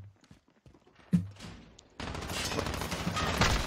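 Gunfire in the video game Call of Duty: Modern Warfare during a Search and Destroy match: a single sharp shot, then a sustained dense burst of rapid automatic fire that continues to the end.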